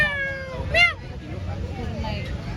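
A cat at a busy fish market lets out a short, clear meow close by, preceded by a softer drawn-out mew, over a low murmur of crowd noise.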